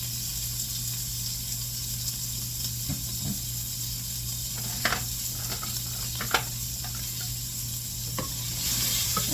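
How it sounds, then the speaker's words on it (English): Rings of sweet onion sizzle steadily in a pan, with a constant frying hiss and a few soft clicks and taps from stirring. "Just will cook the onion until it's softened."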